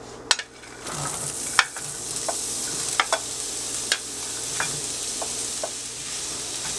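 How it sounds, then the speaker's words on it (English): Onions sauteing in olive oil in a large skillet, giving a steady soft sizzle with sharp clicks and scrapes of a utensil stirring at irregular intervals, close and clear with no voices. "And then we're going to continue sauteing this for about 5 minutes until they're nice and tender."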